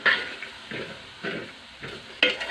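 Tender jackfruit thoran stirred in a pan, several rhythmic scraping strokes of a spoon with a soft sizzle between them, close and fairly quiet.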